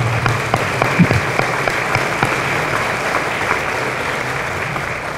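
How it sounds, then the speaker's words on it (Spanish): Applause for Peruvian dancers at a ceremony: a hall full of people clapping steadily throughout, with a few sharper claps standing out near the start. "Ahí las tenemos. Un fuerte aplauso."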